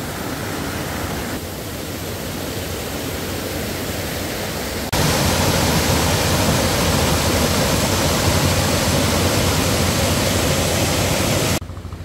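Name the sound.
swollen river rushing after heavy rain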